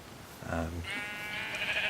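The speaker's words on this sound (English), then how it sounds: "So I've got this 2x2 area so that I can put 4 sheep in there, and they will continue to graze" A Minecraft sheep penned on grass gives a single short bleat, moderately loud over a faint background of steady game tones.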